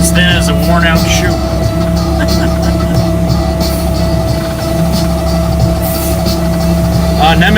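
A big truck's engine drones steadily while the rig is being driven, a constant low rumble under the driver's talking and music.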